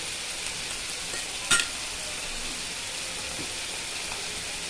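Masala for chicken curry sautéing in a pan gives a soft, steady sizzle throughout, broken by one brief, sharp scrape or clink of a utensil.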